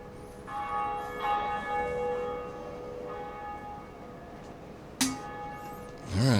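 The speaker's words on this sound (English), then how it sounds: "Alright, first bell's rung." A bell tolls in the video game Dark Souls, with several resonant strikes ringing out and decaying over a low background, one sharper strike standing out near the end.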